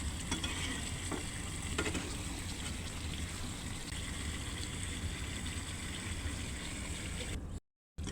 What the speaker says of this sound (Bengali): এখন আবারও নাড়াচাড়া দিয়ে একটু ঢাকনা খুলে রাখবো জল শুকানোর জন্য